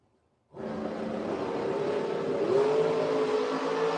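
Drag racing dragsters at Gainesville Raceway launch from silence into a sudden loud, sustained engine roar that holds steady and rises slightly in pitch as the cars tear down the strip.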